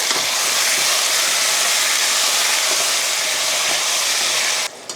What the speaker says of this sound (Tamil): ஒரு கிலோ நாட்டுக்கோழி கூட கொஞ்சமாக மஞ்சள் தூள் அடுத்ததாக உப்பு இப்போ வதக்கி விட்ருவோம்